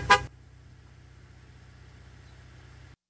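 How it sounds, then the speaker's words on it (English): A Ford F-150 PowerBoost pickup gives its quick, loud double honk on exiting the truck, followed by the low, steady hum of an engine idling nearby. "you're rewarded with the infamous double honk"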